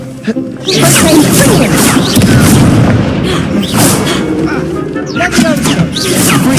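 Incendio fire spell blasts and combat effects in the video game Hogwarts Legacy, a loud rumbling roar with repeated whooshing bursts throughout, close and dense.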